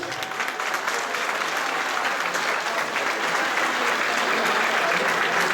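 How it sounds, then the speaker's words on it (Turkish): Sustained audience applause at an award ceremony honouring women, a dense steady wash of clapping from a large crowd that holds evenly throughout. "Her birine koca bir alkış"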